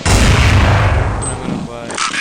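Rifle gunfire from an AK in Counter-Strike 1.6, a loud burst of booming shots at the start that fades out, with speech over it.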